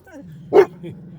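One sharp, close dog bark as dogs greet a visiting dog, standing out briefly against a quiet background.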